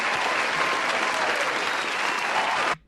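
A burst of dense crowd applause, loud and sustained, cuts off abruptly near the end.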